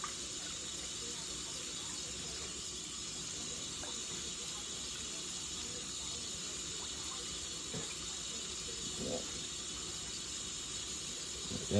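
Tap water runs in a steady hiss into a sink while turnip and mustard greens are washed in cold salt water, a constant flow with faint handling splashes and no talk.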